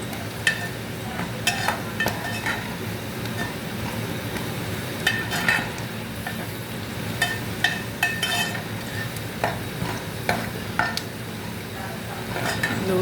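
Onions fry in a pan under a steady background sizzle while a utensil clinks and scrapes against the pot at irregular intervals, close by, with no talk.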